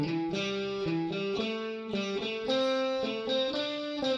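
Electric guitar with distortion runs a pentatonic scale in groupings of three, a quick even stream of picked notes climbing and turning in short repeating patterns, played alone at a moderate level.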